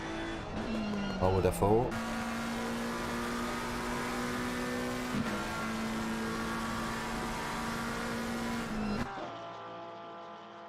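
Ferrari race car engine from Assetto Corsa Competizione holds a steady high drone down a straight, with a brief gear change and a sharp drop-off near the end, under a voice talking throughout.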